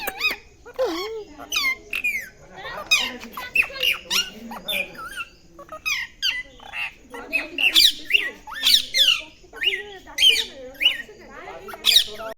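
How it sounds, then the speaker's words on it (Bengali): Birds squawk and screech repeatedly in short, harsh bursts, loud and close, with overlapping calls and occasional chatter from several birds. "কথা বলে পাখিগুলো"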